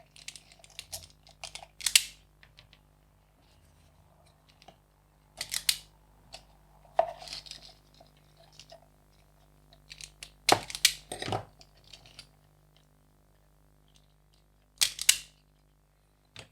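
Sharp snipping clicks from cutting the thermal switch wire inside an Adaro Adalit L2000-LB firefighter's flashlight, a few isolated crisp cuts and handling clatter spread out over quiet stretches, close by with no talking.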